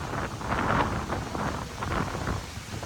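Strong wind buffets the microphone in loud, rushing gusts that swell and ebb, with a broad roar and no voices, at the Manila Bay baywalk in the Philippines, with coconut trees nearby.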